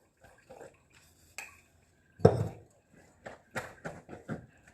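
Tea dishes and pots being washed clatter in a series of sharp knocks and clinks, with one loud bang near the middle, up close and spread unevenly.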